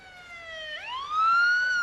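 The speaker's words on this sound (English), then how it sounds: "Look, the ambulance is here." An ambulance siren wails nearby, a single rising tone that climbs sharply midway and grows louder as it approaches, with no voices over it.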